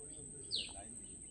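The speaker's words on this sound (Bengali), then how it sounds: "পাখির বিভিন্ন রকম কলরব।" A single short bird chirp rises faintly over quiet ambience beside a river in the Sundarbans forest, with no other calls following.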